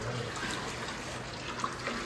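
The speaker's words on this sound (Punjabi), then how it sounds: "ਇਹ ਪਾਣੀ ਭਰਦੇ ਪਏ ਆ ਕੂਲਰ ਚ" Water runs steadily into an evaporative air cooler on a hot day, a continuous close splashing and trickling flow with a faint high whine in the background and no voices.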